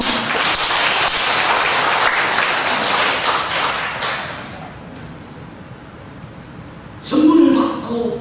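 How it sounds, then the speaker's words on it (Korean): A church congregation at a Sunday service applauds: a dense, loud burst of many hands clapping together that fades out after a few seconds, then a voice speaks. "박수 한번 하겠습니다."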